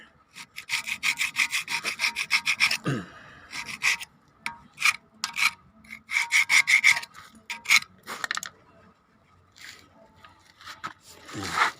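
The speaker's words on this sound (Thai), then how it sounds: "ขูดดินผมนะไม่ได้ใช้เกียงอะผมเอามีดแล้วมาตัด" A knife blade scraping caked dirt off a metal valve, in rapid rhythmic rasping strokes in several bursts, close and fairly loud, with short pauses between runs.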